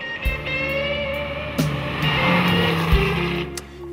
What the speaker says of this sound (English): the Turbo simply accelerates with unbelievable ferocity